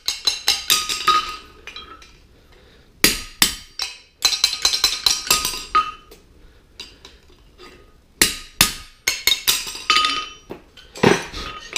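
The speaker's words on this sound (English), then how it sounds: "Stamp them through, pritchel them through." A hammer rings sharply on steel as nail holes are stamped and pritcheled through a heart bar horseshoe, bursts of rapid metallic clinks broken by short pauses, close and loud with no talking.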